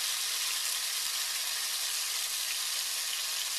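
About six cloves of minced garlic sauté in vegetable oil, making a continuous bright, hissy sizzle that stays even and fairly loud from start to finish, with no talking.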